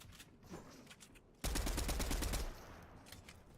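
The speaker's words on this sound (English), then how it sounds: "Looks like he is shooting at all the players rotating" Automatic gunfire in a Fortnite match, a rapid one-second burst of loud shots after faint scattered firing, then distant pops trailing off.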